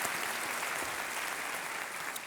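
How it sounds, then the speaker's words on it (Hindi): Studio audience applause on a TV quiz game show welcoming a contestant, a dense, even wash of clapping that holds at a steady level throughout the short stretch. "तालियों के साथ आपका स्वागत हमारे इस कार्यक्रम में"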